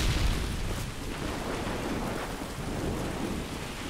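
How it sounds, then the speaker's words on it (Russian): Heavy rain pours steadily with a rumble of thunder and gusting wind, a dense continuous storm wash with no voices, in the video game Call of Duty: Modern Warfare 2. "С этим всем ветром, дождем."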